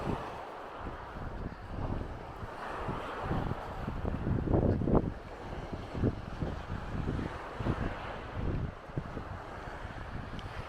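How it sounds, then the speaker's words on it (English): Gusty wind on the Norfolk coast path near Hopton-on-Sea buffets the microphone in steady low rumbling bursts, with stronger gusts near the middle and no voices. "it's windy today, a bit cloudy at the moment"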